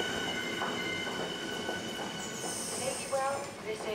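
Train at a London station, Charing Cross Overground, with a steady rumble of rail noise, faint wheel squeal and brief high tones near the end, people talking faintly in the background.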